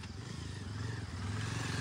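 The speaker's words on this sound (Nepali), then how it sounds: "यसरी साथीहरू ट्र्याक्टरमा चढेर जानुपर्छ यसरी" A tractor engine drones steadily while riding along a village road, a low, continuous throbbing rumble heard close up with faint rattling.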